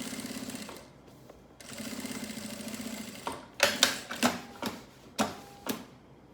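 A sewing machine topstitches along the top of a fabric pocket, running in two steady stitching bursts with a pause between, followed by a series of sharp clacks and knocks, close and without talk.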